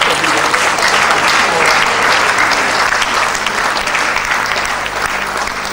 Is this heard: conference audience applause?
yes